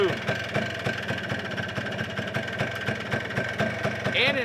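A cold four-wheeler ATV engine idles close by with a steady fast ticking, knocking rhythm, continuous and moderately loud.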